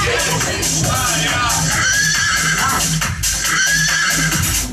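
In a school play of Cinderella, a horse neigh rings out in repeated high whinnying bursts, probably a voice imitating it, over lively stage talk and background noise.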